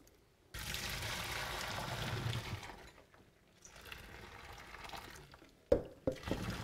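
Pasta cooking water drained from a pot into a sink, a steady rushing pour that fades midway, resumes more softly, then ends with a couple of sharp clanks of the pot.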